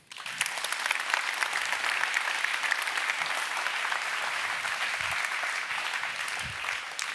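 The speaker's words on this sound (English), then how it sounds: "give a massive round of applause to the Dutch Human Rights Ambassador, Tazib Lee" Sustained audience applause at a Workplace Pride international conference plenary session honoring the Dutch Human Rights Ambassador, steady dense clapping filling the hall at even loudness for the whole stretch, with no voices over it.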